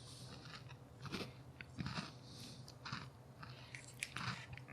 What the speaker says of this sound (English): We've got the crunch of the balls there.